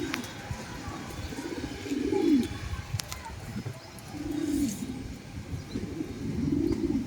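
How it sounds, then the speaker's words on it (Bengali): A racing pigeon back from a race coos close by, with three soft, rolling coos about two seconds apart over faint background noise. "এই কবুতরটা প্রতিবার আসে রেসে"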